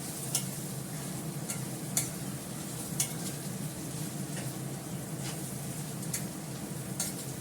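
Spices fry in a pan before meat goes in, giving a soft continuous sizzle with regular light scrapes and ticks of a utensil stirring roughly every second, close and without voices.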